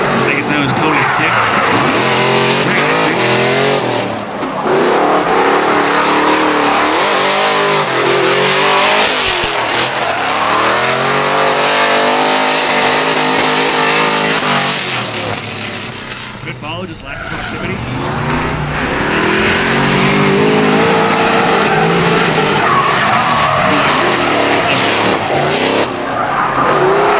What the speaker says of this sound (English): All right, Eric's coming around Mustang, lead Miles, BMW.